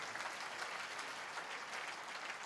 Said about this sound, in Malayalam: കൈയടിച്ച് കർത്താവിനെ സ്തുതിക്കട്ടെ.